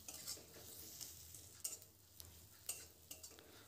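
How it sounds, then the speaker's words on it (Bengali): Onion frying in a pan with turmeric and coriander powder, heard as a quiet, soft sizzle with a few brief stirring scrapes and clinks. No one speaks. "এবার দিয়ে দিচ্ছি 1/2 চামচ হলুদ আর 1/2 চামচ ধনে গুঁড়ো দিয়ে পেঁয়াজের সাথে এটা ভালো করে"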